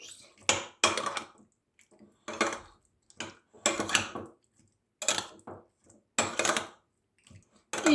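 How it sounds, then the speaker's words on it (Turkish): A spoon stirs a yogurt cacık salad with onion, vinegar and mayonnaise around a bowl, making repeated close scraping and clinking strokes separated by brief quiet gaps. "Soğan, sirke, mayonez hepsi bir anda karışsın diye biraz çevire çevire salatamızın tüm etrafını geçecek şekilde karışımımızı sağlıyoruz."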